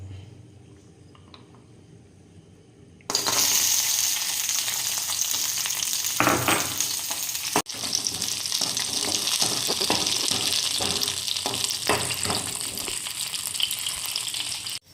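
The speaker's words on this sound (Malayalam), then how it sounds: "അണ്ടിപ്പരിപ്പ്, മുന്തിരിയൊക്കെ വറുത്തെടുക്കാം." A steady, loud sizzle of cashews and raisins frying in hot ghee begins abruptly after a quiet start, with occasional stirring clinks.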